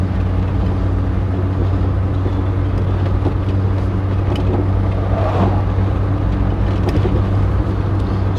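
A 1966 Humber Super Snipe with a rattle in the rear drives along a valley road, heard from inside as a loud, steady low engine and road drone throughout, with no talking.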